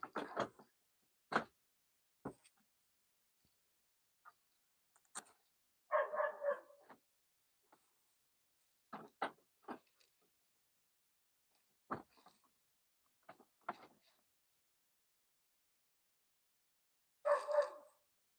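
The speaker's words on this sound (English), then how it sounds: "Someone should let that dog in." A dog barks outdoors in scattered single barks and short bursts, some clustered, with long silent gaps between them, moderately distant and fairly faint.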